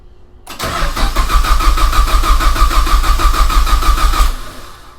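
An engine with its fuel injectors disconnected, in a car fitted with a RaceLine oil pan, cranks on the starter for about four seconds in a loud, steady rhythmic churn that never catches, then stops.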